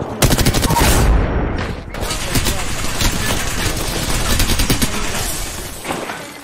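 Rapid bursts of close automatic gunfire in a battle royale shooter game, loud and sustained across the clip, with brief pauses between volleys and a voice talking over the shooting.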